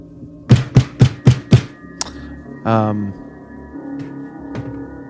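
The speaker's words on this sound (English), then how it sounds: "I'm going to bang on the door again a little louder." Five loud, evenly spaced bangs on a door, close and heavy, followed by a brief creak and a few faint knocks.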